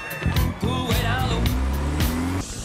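A Hyundai Genesis car drives off, the engine revving and rising in pitch with shifting tones as it pulls away loudly, with faint voices underneath.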